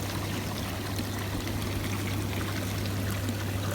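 Hot tub fountains running with the pump turned up on a 536-litre Hawaiian Breeze spa, a steady splashing, pouring water wash over a low pump hum, close and continuous.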